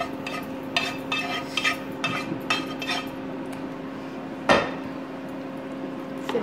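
Pav bhaji mixture with lightly fried peas and capsicum being stirred in a pan, giving repeated scraping and clinking strokes with one sharper knock near the end, steady and close with no talking.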